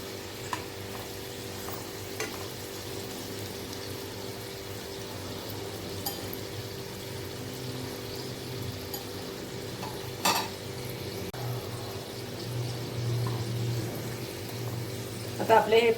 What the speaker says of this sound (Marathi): सर्व बाजूने असे खरपूस असे फ्राय करून घ्यायचे आहे.